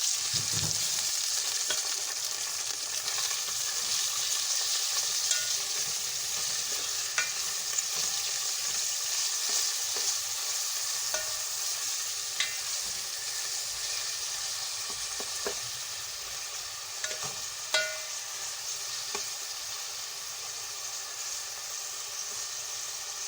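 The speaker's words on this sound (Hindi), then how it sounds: "उसमें कीमा डालेंगे।" Minced meat (keema) sizzles and fries in a pan with golden brown onions, a steady broadband crackle with occasional stirring clinks and scrapes, fairly close and continuous, with no talk.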